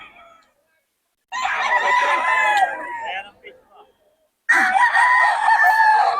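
A stag gamecock crows twice, loud and close: one long crow, a pause, then a second crow that runs to the end.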